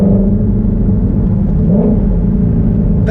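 A Ford Shelby GT350 engine revs at about 3,000 RPM, producing a steady, loud, deep rumble that rises and falls slightly in pitch throughout, heard up close with no talking.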